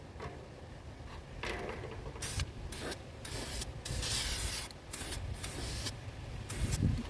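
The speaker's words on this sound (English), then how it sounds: "maybe I should have spray painted this before I attached it" Spray paint can hissing in bursts while coating a DIY bird feeder, several spurts of varying length close to the mic with short pauses between them.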